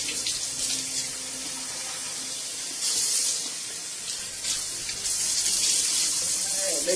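Tap water runs steadily while a natural wig is rinsed in a sink, a continuous close hiss of spray that swells slightly at moments, with no talking.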